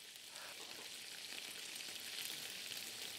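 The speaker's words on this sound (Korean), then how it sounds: "쫄깃한 맛과 저렴한 가격으로 사랑받고 있는 곱창볶음. 지글지글 볶고 있습니다." Beef tripe (gopchang) sizzles steadily while being stir-fried in a pan, giving a continuous quiet crackling hiss with no voices.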